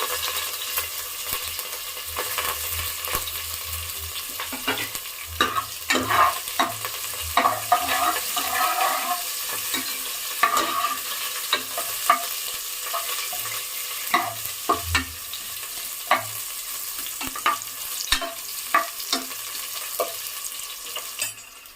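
Cumin seeds, curry leaves and onion frying in a pan, a steady close sizzle broken by repeated scraping stirs and small pops, continuous for about twenty seconds with no voices.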